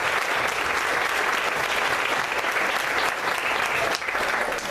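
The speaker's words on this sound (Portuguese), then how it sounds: "Vamos dar uma salva de palmas para a palavra de Deus." Loud, dense applause from a church congregation after the Gospel reading at a families' gathering Mass, a steady wash of many hands clapping that fills the space without pause.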